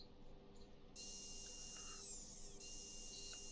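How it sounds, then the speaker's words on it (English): A power drill in a virtual reality training simulation whirs steadily at a high pitch for a few seconds while tightening long bolts, briefly dipping in the middle, against a low electronic hum. "Use the drill to tighten the long bolts."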